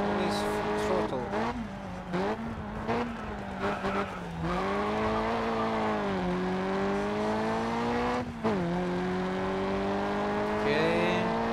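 Race car engine held at full throttle in the racing game GRID Autosport, a loud sustained droning whine rising and dipping through gear changes, with brief tire squeals and a voice talking over it.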